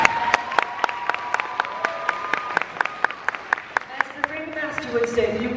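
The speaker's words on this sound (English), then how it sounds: "you might as well stop applauding, for it will never be enough" An audience at a haunt convention panel claps steadily, with sharp, evenly spaced claps standing out over a broad crowd applause and voices talking underneath.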